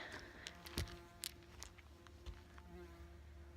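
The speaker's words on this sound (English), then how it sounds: "it's a really big bee interested in me" A large bee buzzes close by outdoors near a lake in a park, its faint drone drifting in and out under light rustling and a couple of sharp knocks.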